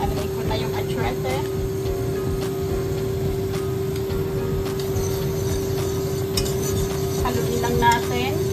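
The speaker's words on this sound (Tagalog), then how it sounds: "Haluin lang natin." A utensil stirs annatto into pork belly kare-kare in a pot, with repeated light scraping and metallic clinks over a steady kitchen hum.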